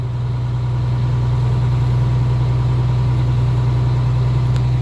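A heavy truck engine idles steadily during an air brake test, a loud, even low rumble with constant vibration and no change in rhythm, heard alone without talk.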